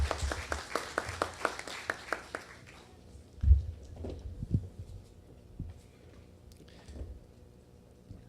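Brief applause of rhythmic claps, led by a few people, from the audience at a conference on plastic bags and utensils, fading after about three seconds into quiet room noise with scattered thumps.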